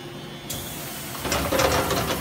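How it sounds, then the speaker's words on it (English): A Mazak CNC machining center carrying out an automatic tool change, with a brief mechanical clunk followed by a ratcheting, whirring rush of moving mechanism, fairly close and steady, no voices. "Doing a tool change."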